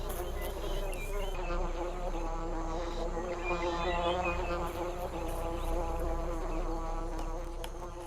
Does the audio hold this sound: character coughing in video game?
no